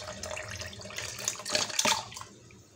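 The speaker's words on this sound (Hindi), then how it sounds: "ये देखिए आइसी वाटर में डाल रही हूँ, इसके अंदर आइस डली हुई है।" Ice-cold water with ice in it is poured into churned cream while making homemade sweet butter, giving a soft, close splashing trickle for a few seconds before fading.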